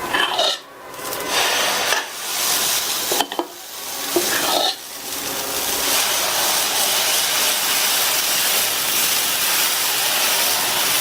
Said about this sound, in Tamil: தோசைக்கல் போட்டு நல்லா சூடானதுக்கு அப்புறமா இதில் கொஞ்சமாக எண்ணெய் விட்டு நல்லா இந்த மாதிரி ஸ்ப்ரெட் பண்ணி விட்டுட்டு தோசையை ஊற்றிடலாம்